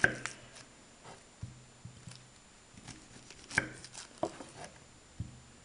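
Onion being cut with a knife outdoors, soft irregular chopping taps on a board with brief pauses, fairly close but quiet, amid faint background ambience.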